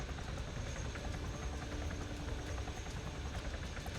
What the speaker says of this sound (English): the helicopter doesn't sink and has a limit to how deep it goes